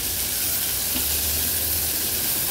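Finely chopped medium onion sizzling in hot oil inside a pressure cooker, a steady loud hiss and crackle of frying running evenly without pause.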